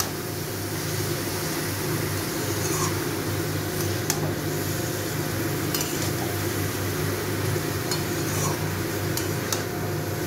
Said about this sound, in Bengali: বাঁধাকপিটা একটু ভালো করে এর সাথে মিশিয়ে নেব।